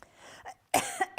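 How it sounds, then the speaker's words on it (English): A man gives several short dry coughs close to the microphone, uneven bursts separated by brief pauses, with a throaty clearing quality. "I've got a little cough because I had a sneaky sweet just before the show."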